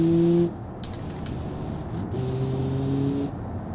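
A car driving in the Automation game, a steady engine drone with shifting tonal hums as it cruises and turns, fairly close and continuous with brief gaps.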